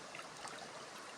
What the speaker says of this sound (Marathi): बघा, ही आपली नदी आहे.